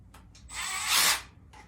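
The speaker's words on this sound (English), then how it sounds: "run them out with the power tool." A power drill whirs in a short burst driving out bolts from a 1964 John Deere 110 transmission, rising in pitch then winding down, with a few ratcheting clicks around it.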